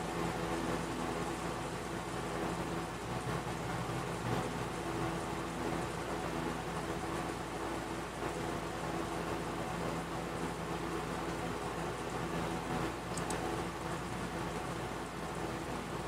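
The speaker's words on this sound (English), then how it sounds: "It seems like it's finally started raining." Steady heavy rain from the Umineko visual novel pours continuously as a dense, even hiss with a low rumbling undertone, loud and unbroken with no voices.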